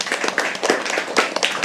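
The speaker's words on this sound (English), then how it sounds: "Can we please have a round of applause for everybody?" Audience at a live poetry open mic claps in a short, scattered burst of applause, close and fairly light, lasting under two seconds.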